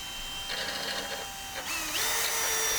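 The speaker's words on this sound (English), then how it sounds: "I stand my drill up and drill to my full required depth." A power drill whirs while boring a hole for a shed door, its motor whine rising in steps and holding steady and fairly loud at the end.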